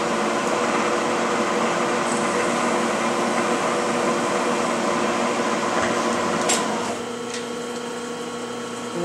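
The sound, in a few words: milling machine end mill cutting a part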